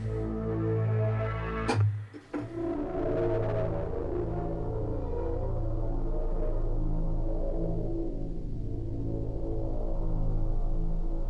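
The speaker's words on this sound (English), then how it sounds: "And the tube distortion on this thing." A distorted Serum 2 software synthesizer with tube distortion drones with a gritty, buzzing low tone, briefly cut by a sharp click, then sustaining steadily for several seconds.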